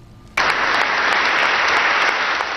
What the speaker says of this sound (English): Cardinals stood and clapped for Pope Benedict XVI as he met with them at the Vatican ahead of his historic resignation.